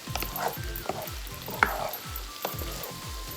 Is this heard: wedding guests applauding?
no